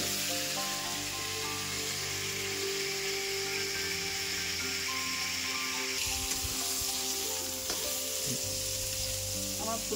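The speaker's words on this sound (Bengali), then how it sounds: "আমার ফুলকপিগুলো লাল লাল করে ভাজা হয়ে গেছে" Cauliflower fries in hot oil with a loud, steady sizzle and bubbling. Occasional stirring clatters against the pan in the second half, and no one speaks.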